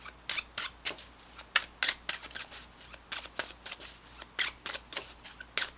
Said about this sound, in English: Let's pull you an additional guidance card.